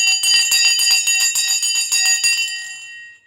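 A stock market closing bell rings in a rapid, steady run of metallic strikes for about two and a half seconds, loud and close, then fades into a ringing decay.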